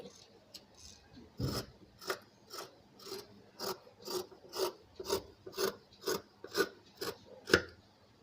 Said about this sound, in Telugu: ఇప్పుడు చుట్టూరు కూడా కట్ చేసుకోవాలి.